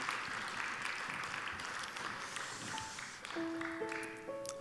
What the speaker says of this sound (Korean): 우리 드보라 찬양대 격려의 박수 한 번 더 하겠습니다